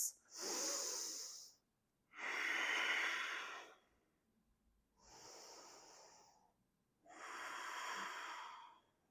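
Slow, deep mindful breaths taken while holding a yoga balance pose, four long airy inhales and exhales close to the mic with short quiet pauses between them.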